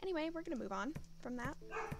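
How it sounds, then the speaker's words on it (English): A pet dog barks and yips in short sharp bursts, roughly four of them, near the microphone while someone talks over the top. "I swear every time I start talking, she starts barking again."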